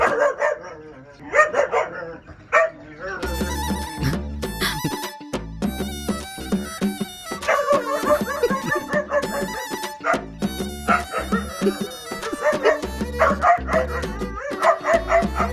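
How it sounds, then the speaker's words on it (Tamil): A dog barks repeatedly in quick yapping bursts, close and loud, with some whimpering yips mixed in over a busy background. "என்ன நாய் கத்துது?"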